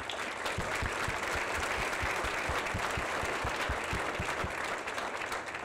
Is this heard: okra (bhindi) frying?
no